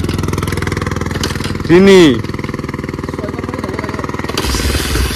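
A Hero XPulse 200 motorcycle engine thumps loudly and close in a fast, steady single-cylinder beat after a kick start. Someone speaks briefly over it.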